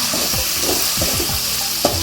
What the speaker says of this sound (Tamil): வெங்காயம் இந்த அளவுக்கு வதங்கிடுச்சு. தக்காளி சேர்த்துக்கலாம்.